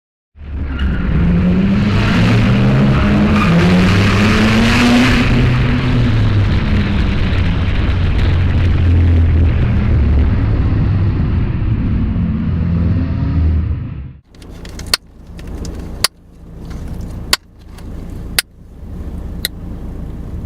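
A modified car roars loudly under heavy throttle, then the engine drops away and sharp, isolated exhaust pops and crackles follow at irregular intervals, close by, with no talking.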